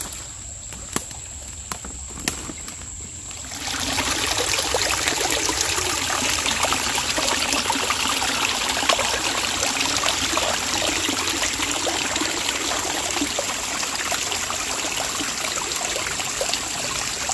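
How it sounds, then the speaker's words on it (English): Spring water gushes year-round from under a rock, a steady close trickle and splash that rises suddenly after a few seconds of quieter clicking and handling noise, then runs on continuously. "This is coming right out of the ground, right out from under that rock. This is a spring that runs year round."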